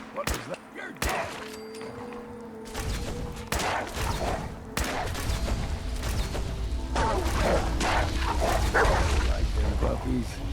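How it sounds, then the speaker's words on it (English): Vicious wolves in the game Fallout 4: Far Harbor snarl and bark in a rough burst near the start, then a dense, loud stretch of combat noise and gunfire with a voice talking over it. "Vicious wolf."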